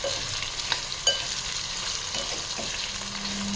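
Pineapple pieces sautéing in a spiced tempering for South Indian pineapple gojju, giving a steady close sizzle with a couple of light spoon taps and stirring scrapes.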